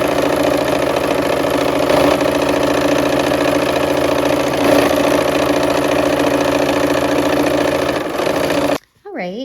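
A sewing machine runs steadily while sewing quilt block rows for a nine-patch, a fast, even mechanical whirr that holds close and loud for several seconds, then stops abruptly near the end.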